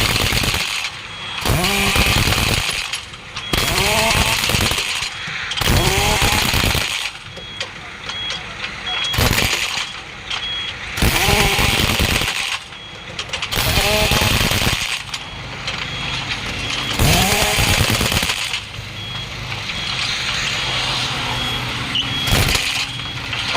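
Repeated bursts from a power tool tightening nuts on a 10.00 R20 truck tyre wheel during puncture repair, loud rattling hammering runs of a couple of seconds each with short gaps, while people talk in between.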